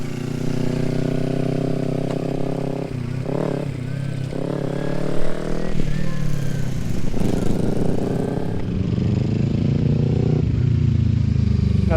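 A motorcycle engine holds a steady throttle during slow parking-lot cornering practice, a loud continuous drone with slight pitch shifts as the bike moves.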